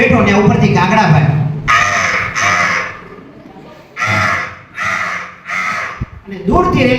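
On stage, a mimicry artist voices a crow with several loud, harsh caws in separate bursts. They come between stretches of his ordinary talking.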